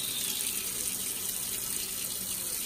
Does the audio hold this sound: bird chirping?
no